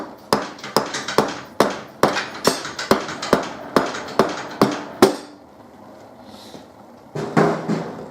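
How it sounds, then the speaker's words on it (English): A series of sharp, evenly spaced taps of a nylon hammer on a metal bracket of a Harley-Davidson Deuce motorcycle, about a dozen in quick rhythm, then a pause and a softer knock near the end. "I'll get me nylon hammer and just"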